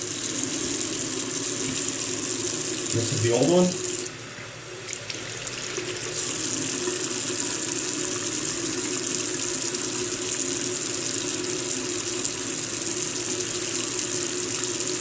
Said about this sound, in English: So I'm gonna run some water.